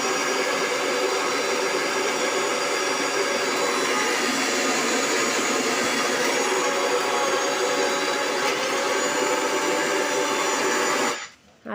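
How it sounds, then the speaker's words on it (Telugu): A mixer grinder grinding soaked lentils with water for idli batter, a continuous loud whirring motor drone that runs steadily and cuts off near the end. "పప్పు కొన్ని ఇప్పుడు ఒకసారి మిక్సీకి వేసేసుకొని"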